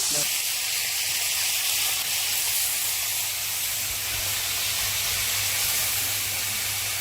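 Chicken frying in a pan with green chillies and black cumin gives off a loud, steady hiss of sizzling oil that runs unbroken throughout, with a low hum underneath.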